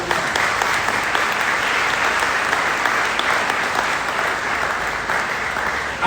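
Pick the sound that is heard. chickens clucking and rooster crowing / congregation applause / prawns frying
congregation applause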